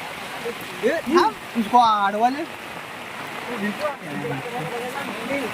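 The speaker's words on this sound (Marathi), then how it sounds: "पाऊस बघा, पावसाने रौद्र रूप धारण केलेलं आहे." Heavy rain pours steadily on a monsoon Independence Day at a rural school in Raigad district, a constant wash of hiss beneath someone talking loudly close by.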